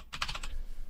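A burst of quick keystrokes on a computer keyboard, close and fairly quiet, while a web address is typed into a browser.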